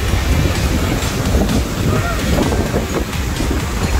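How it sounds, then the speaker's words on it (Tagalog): Steady, loud wind buffets the microphone over a constant rush of sea waves on a beach in Quezon Province, Philippines, with no clear pauses throughout. "Ito tayo sa dagat. Oh. Ang ganda. Ang hangin. Ang alon."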